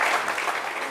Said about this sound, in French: Je pense qu'on peut les applaudir pour toutes les actions qu'ils mettent en place.